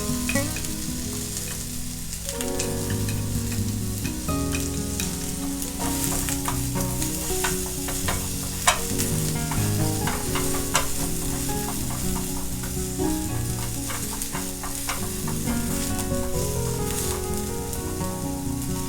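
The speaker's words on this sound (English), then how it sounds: "Heat the skillet and add the sliced onion and stir fry for a little while." Sliced onion sizzles and crackles in a hot skillet, stirred now and then with scattered pops and scrapes, a steady close frying sound without speech.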